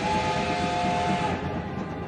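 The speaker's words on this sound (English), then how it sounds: "Train." Anime scene of a train departing, with a steady rumbling rail noise under a sustained whistle-like tone, loud and continuous throughout with no talk.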